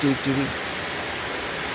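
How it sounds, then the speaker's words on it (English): Rain falling outside a workshop in Florida, a steady broadband hiss of downpour that holds even and fairly loud throughout, with a brief low hum or voice-like tone at the very start. "It's raining right now and my stuff getting all rusty."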